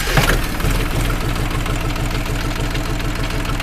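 A tuned car engine starts with a brief burst and then settles into a steady, even idle that stays close and loud throughout, with a faint valve tick running under the hum.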